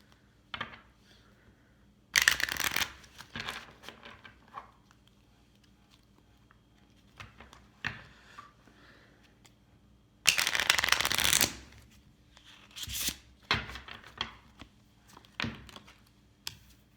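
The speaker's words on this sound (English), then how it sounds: "so just a few more shuffles here" Tarot cards are riffled and shuffled in two loud, crisp bursts with scattered lighter taps and card handling between them, close up in a quiet room.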